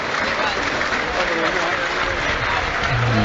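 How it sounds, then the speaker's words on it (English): A large crowd applauds steadily and fairly loudly in a stadium at a Stevenage vs Coventry City football match while a commentator talks over the noise. "gets applause from the Sky Blues supporter"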